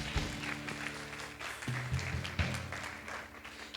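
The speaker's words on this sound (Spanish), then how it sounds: "Y vamos a darle un fuerte aplauso a Dios." Church congregation clapping at a Spanish-language service, a fairly quiet, uneven patter of hands over a sustained low tone from an instrument or hum, lasting a few seconds.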